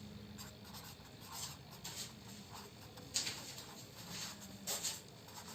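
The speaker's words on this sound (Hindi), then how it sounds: "मैं यहाँ पे लिख देता हूँ कैपेसिटर" Pen writing a capacitor value onto a coil winding diagram for a 1.5 inch cooler kit motor, quiet scratchy strokes with soft taps and rubbing, close and faint, no talking.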